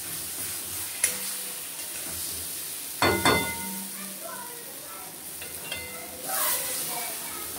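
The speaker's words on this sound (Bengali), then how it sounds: "আমি তেলে একটু নেড়ে নিয়েছি" Yardlong bean and rohu fish tail paste is stirred in hot oil, giving a low, steady sizzle broken by a few sharp spatula scrapes against the pan.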